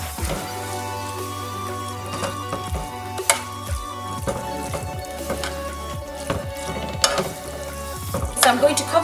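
Chicken cooks in a pan with chili and garlic paste while a spoon stirs it. Low sizzling runs under scattered scrapes and knocks against the pan, close and moderately loud, with a steady background hum.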